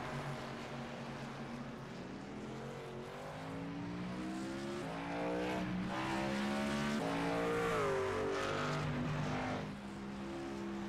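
Race trucks in the HTL Hammer Down Truck Series roll around the track under caution at the Wisconsin 100, their engines droning and rising and falling in pitch as they pass, moderately loud, with no speech.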